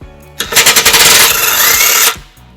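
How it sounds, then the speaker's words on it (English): Impact wrench driving a 17mm socket on the bumper beam bolts of a Subaru Ascent, one loud sustained rattling hammer burst of about a second and a half, close up, with no talk. "we're going to remove those using a 17mm socket"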